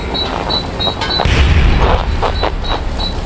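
A grenade explodes in Call of Duty 4: Modern Warfare, a deep low boom swelling midway through a dense battle soundscape with steady background rumble and periodic high beeping tones.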